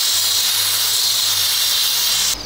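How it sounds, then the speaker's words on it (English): A steady, loud hiss of a steam cleaner blasting a sneaker outdoors continuously for a couple of seconds, then cutting off abruptly. "Hit that with a quick steam."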